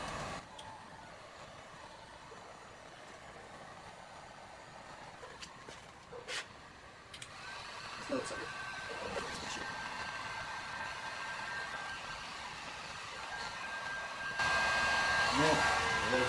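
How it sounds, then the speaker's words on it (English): Heat gun blowing a steady hiss of hot air during a 2016 Golf R MK7 intercooler install, faint at first and louder toward the end, with a few clicks and handling noises. "Put the heat gun."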